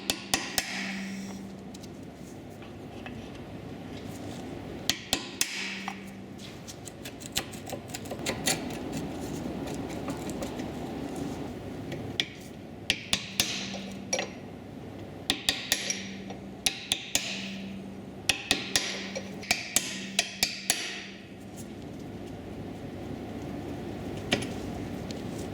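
A hammer striking a punch to drive out a brake pad pin on an Audi Q7, sharp metallic taps arriving in irregular clusters with pauses between, close and clear over a low workshop hum, no talking.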